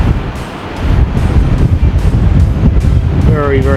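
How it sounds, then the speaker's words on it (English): Strong wind buffets the microphone at the seaside, a steady loud roar with surf mixed in throughout, and a faint voice near the end. "Very, very windy."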